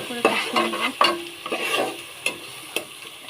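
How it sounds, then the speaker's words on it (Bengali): Spices stir-fried in a pan with a handful of distinct scraping spatula strokes over a soft sizzle, close and fairly quiet. "এটা মশলার সাথে ভালো করে কষিয়ে নেব।"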